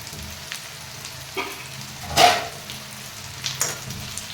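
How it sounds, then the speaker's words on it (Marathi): Taro leaf vadi fry with onion in a pan, a soft sizzle broken by a few short bursts from stirring, fairly quiet and close, with no talk. "त्यानंतर कांद्यासोबतच आणि त्यानंतर शिजवून कट करून घेतलेल्या आळूच्या वड्या घालायच्या"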